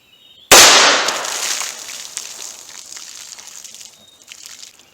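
One loud, sharp gunshot from a .38 Special revolver with a 4-inch barrel firing Hornady Critical Defense standard-pressure 110-grain ammunition, close and cracking, with a long ringing reverberation that slowly fades.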